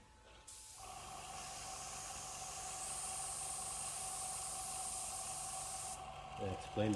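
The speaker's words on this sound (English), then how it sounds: "We'll see if it sprays out a bit better now." An airbrush or spray gun sprays thinned touch-up paint onto a car guard for paint chip repair, a steady close hiss lasting about five seconds before cutting off, with a brief voice at the end.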